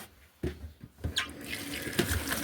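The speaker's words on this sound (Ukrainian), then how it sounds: "Отак потрошки під проточною водою промиваю полуничку і в миску" Tap water runs over strawberries held in a sieve, splashing and pattering near the mic in uneven bursts as the berries are rinsed, with no talking.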